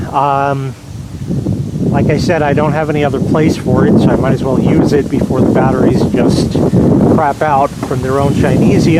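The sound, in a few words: wind blowing into microphone outdoors in backyard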